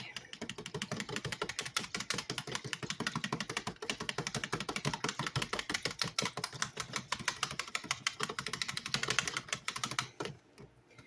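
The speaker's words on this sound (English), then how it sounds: "Give this a quick whisk." Wire whisk beating cake batter made with milk and vanilla by hand in a bowl, a fast, steady run of close clicking and tapping against the bowl for about ten seconds before it stops abruptly.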